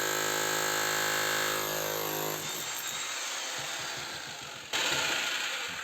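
A rotary hammer running on dry, cracked spruce firewood, a loud steady mechanical whine that shifts into a rougher grinding rattle as it bites in, with a sudden louder burst near the end.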